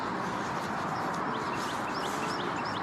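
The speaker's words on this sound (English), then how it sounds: "Those birds freaked out." Chickens clucking and squawking in agitation, a frantic flock heard over a steady, dense wash of broadband noise, with scattered higher calls cutting through.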